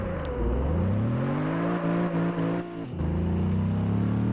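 Chevrolet Camaro engine drifting in the racing game Test Drive Unlimited 2, with loud sustained revving that climbs in pitch, dips briefly as the throttle lifts, then roars again, with no talking.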